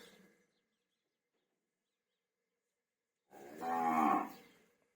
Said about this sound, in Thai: อันนี้เป็นคอกวัวของเรานะครับ